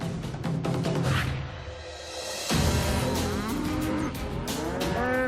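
A large herd of around 3,000 cattle driven north through Montana moos in long, overlapping bellows, several animals calling at once, loud and close with no talk.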